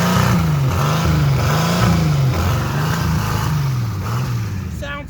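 A Jeep engine runs with no motor oil, a loud, rough, rhythmic chugging whose pitch wavers in repeated surges and dips, close and continuous, with a voice talking over it.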